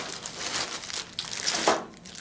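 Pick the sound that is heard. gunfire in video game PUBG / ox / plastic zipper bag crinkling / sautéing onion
plastic zipper bag crinkling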